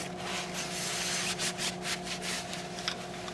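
A blue shop towel rubs excess oil off a CMMG MK9-T rifle in a series of soft, gentle brushing strokes, faint and close over a low steady hum.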